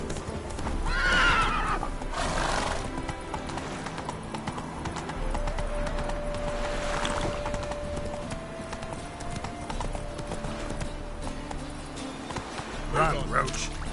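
The horse Roach in The Witcher 3 neighs and gallops with clip-clopping hooves, whinnies rising near the start and end over continuous game sound and a speaking voice.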